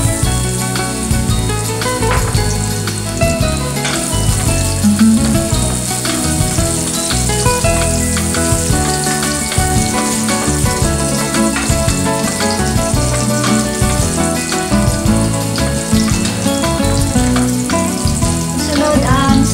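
Garlic frying in hot oil in a heated pan for pineapple chicken, a loud, dense, continuous crackle and sizzle with faint stirring, close up and without talk.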